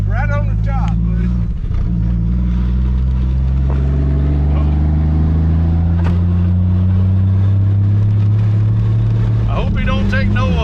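Engine of a 1959 Edsel Ranger running steadily as the car drives toward a mud hole, a loud continuous low drone with rising revs through the middle; voices speak over it at the start and end.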